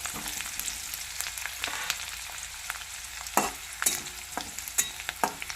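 Onion, garlic and ginger frying in a pan over popped cumin and mustard seeds for a quick potato bhaji, a soft steady sizzle broken by repeated sharp spatula clinks and scrapes, close and alone.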